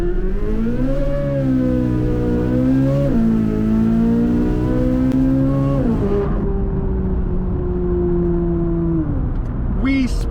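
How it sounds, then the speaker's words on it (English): A Chevrolet Corvette C8 Z06 launches hard from a standstill in a 0 to 60 run, its engine screaming loudly up through rising revs with sharp shift breaks before settling into a steady high drone and easing off. "let's go ahead and do a 0 to 60 test on the C8 Z06"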